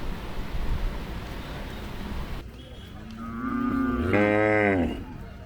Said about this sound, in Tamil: இந்த மாடு பாருங்கள் நல்லாயிருக்கு